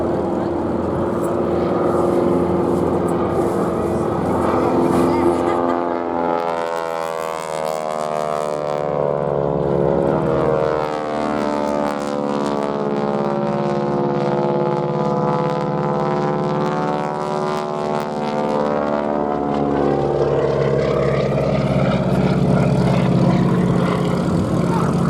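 Propeller-driven aerobatic display aircraft at an airshow in Duxford, UK, likely a Breitling wing-walker team, drone loudly past with a steady throbbing engine note that swells and shifts in pitch as they cross overhead, under continuous commentary.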